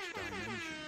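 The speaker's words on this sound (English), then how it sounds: "so hopefully you heard that air horn" A loud, blaring air horn sound effect sounds in one continuous close blast lasting about a second, harsh and buzzy, with no talking.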